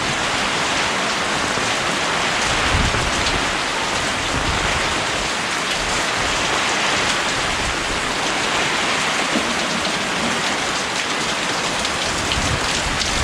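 Heavy rain pours steadily and loudly in Bicol during a power outage, a dense unbroken hiss of drops drumming on nearby surfaces with no pauses and no speech.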